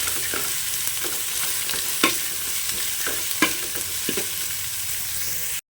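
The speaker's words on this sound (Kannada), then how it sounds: "ಒಳ್ಳೆ ಫ್ರೈ ಆಗಬೇಕು ಒಳ್ಳೆ ಫ್ರೈ ಆಗಿ ಇದರ ಪರಿಮಳ ಬರಬೇಕು" Onions frying in a pan with a constant close sizzle, broken by a few sharp spatula scrapes and stirs, no voices, then a sudden cut to silence at the end.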